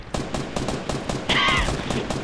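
Gunfire in the video game Fortnite: a rapid run of sharp, evenly spaced shots, close and loud, with a short high whining tone partway through and no talk.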